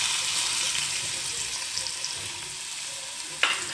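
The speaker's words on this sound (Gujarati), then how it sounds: "હવે ડુંગળીને હું ગોલ્ડન બ્રાઉન સુધી હલાવી લઈશ" Onions sizzle steadily in hot oil with asafoetida in a kadai for vegetable masala pasta, close and even, with one brief clink near the end.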